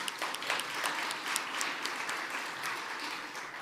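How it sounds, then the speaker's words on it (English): A crowd at a conservative pro-life policy event gives a sustained round of applause, steady and moderately distant, with dense overlapping claps throughout. "Can we just give them another round of applause?"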